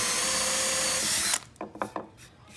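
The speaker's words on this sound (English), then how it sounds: "I'm gonna start off with the drill. Put my bit in, drill my hole." A power drill whines steadily and loudly for over a second while drilling a hole in wood, then stops, followed by a few light knocks and clatters.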